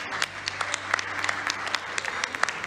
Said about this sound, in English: If we give a round of applause for all her work.